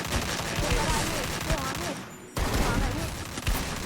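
Rapid automatic gunfire rattles in the battle royale game Free Fire, dense bursts of shots close and loud, broken by a brief pause before the shooting resumes.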